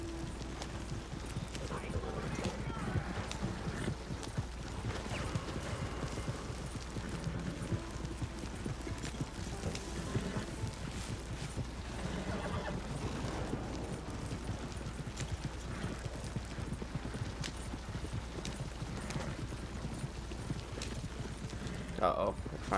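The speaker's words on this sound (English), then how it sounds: "Horse." Horse hooves clip-clop steadily through a Red Dead Redemption 2 train robbery mission, a continuous galloping rhythm mixed with game ambience and a low steady hum, while a player talks over it throughout.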